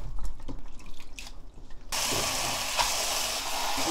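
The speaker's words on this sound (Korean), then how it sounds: "아까 깨끗이 씻었으니까 이렇게 찬물로 헹궈서 물기를 빼." Cold tap water gushes steadily over blanched spinach in a sink after a few quieter handling clinks and drips, the flow starting abruptly and running close and constant.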